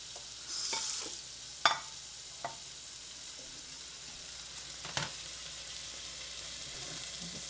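Steak searing in a home kitchen pan ahead of finishing in the oven, a steady soft sizzle running throughout, with a few close, sharp clinks and stirring knocks breaking through at moments.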